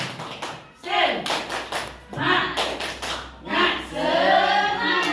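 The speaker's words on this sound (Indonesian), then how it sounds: "Coba kita tepuk semangat." A group of teachers at a morning session in Indonesia does a rhythmic spirit clap, tepuk semangat, in short bursts of patterned claps and taps. Voices chant along between the bursts.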